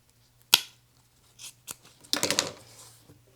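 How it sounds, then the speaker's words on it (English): Scissors snip off excess zipper tape at the end of a packing cube piece, one sharp close cut followed by a few lighter snips and a quick cluster of cuts, with no talking. "I'm going to go ahead and trim this excess here at the end of the zipper tape"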